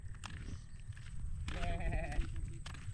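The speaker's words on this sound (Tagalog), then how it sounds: "Yung kambing ng lolo." A goat bleats once in a wavering cry midway, close by, against a low rumble and brief scuffling noises.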